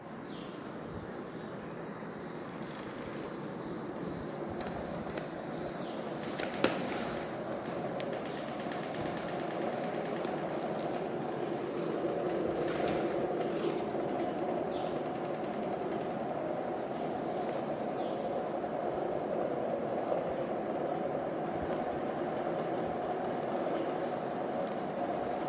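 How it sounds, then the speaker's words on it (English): A combined axial and radial stator BLDC motor runs with a steady, continuous hum and whir, holding an even level throughout with a brief click partway through. "Now I am going to run the motor with the combined axial"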